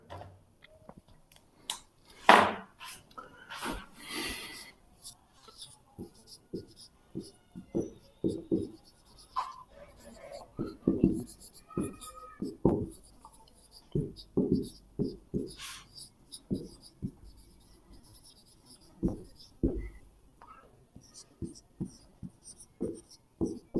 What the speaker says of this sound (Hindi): मैं 2 एग्जांपल लिखता हूं